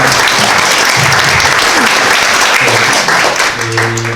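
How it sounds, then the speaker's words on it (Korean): Audience applause fills a Korean policy forum on animation right after a presenter finishes, a dense sustained clapping throughout with some faint voices and tonal hum near the end. "박수 한번 부탁드립니다."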